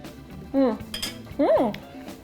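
A utensil stirs creamy Alfredo sauce with cream, parmesan and roasted cauliflower in a pan, giving a few soft scrapes and light clinks, while two short voiced murmurs rise over the top.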